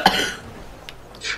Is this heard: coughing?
yes